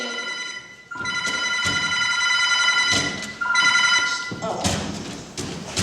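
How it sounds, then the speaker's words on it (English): A bell-like telephone rings in long repeated tones, accompanied by thumps and bumps, with a voice speaking briefly near the end. "I don't want this number ruined by a ringing telephone"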